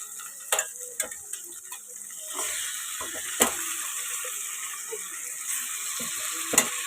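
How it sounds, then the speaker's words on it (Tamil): Ginger and garlic sauté in a pan for chicken pepper fry, giving a steady, soft sizzling hiss broken by a few sharp clicks and scrapes from stirring, with no talking. "இஞ்சி பூண்டு நல்லா வதங்கிடுச்சு"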